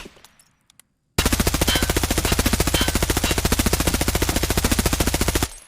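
HK rifle fitted with a Valday sight firing in Escape from Tarkov, a few quiet clicks and then one long, loud, steady burst of rapid automatic fire at close range that runs for about four seconds before cutting off.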